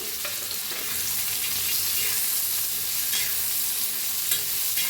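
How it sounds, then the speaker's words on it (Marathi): A steady dry hiss and crackle from coconut roasting in a hot pan runs continuously, with faint occasional scrapes of a spatula, close and fairly even in loudness. "खोबरं मी भाजून घेऊया आपण"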